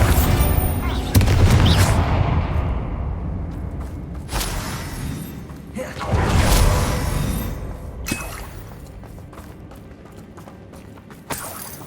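A Bombarda blast spell from Hogwarts Legacy goes off in several heavy booming explosions with crackling debris, loud and close, spaced across the scene with game chatter and voices between them.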